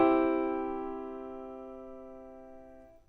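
Single sustained tonal note on a violin, rich in harmonics, decaying gradually over about three seconds, alone and fairly quiet.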